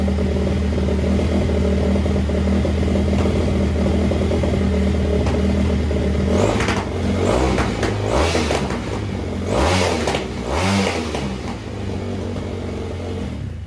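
A motorcycle engine runs with the choke off, idling steadily and then revving in several short bursts, close and loud with no talking.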